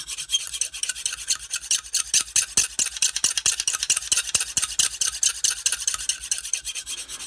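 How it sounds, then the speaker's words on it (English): Knife blade rasped across a Lansky sharpening stone in steady, regular back-and-forth strokes, bright scraping close up and alone, with no talk. "So now I'm gonna turn the knife around, and then I'm gonna start on the next stone."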